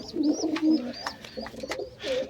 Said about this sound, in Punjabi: ਤੇ ਇੱਧਰ ਵਾਲੇ ਕਬੂਤਰ ਵੀ ਦੇਖ ਲਈਏ